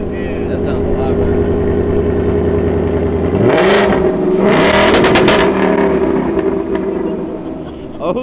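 Supercharged Hellcat Charger with a manual transmission, breathing through a Steeda X-pipe exhaust, revs hard with a throaty, loud roar that rises in bursts near the middle, heard up close with no talking over it.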